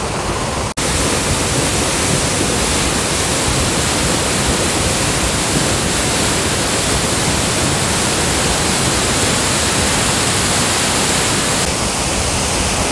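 Water gushing up from a mine outflow pipe in the Pilbara outback, a loud, dense, unbroken roar that starts abruptly after a brief moment and holds steady and close the whole time.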